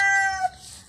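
A chicken's brief, strained call rings out nearby in a single short cry that fades quickly, alone without talk.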